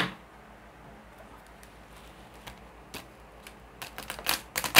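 A stiff deck of tarot cards is shuffled indoors. Faint, scattered clicks and soft taps build into a quicker burst of crisp card flicks at the end.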